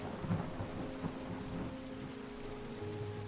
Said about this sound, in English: I'm just gonna wait until the rain's over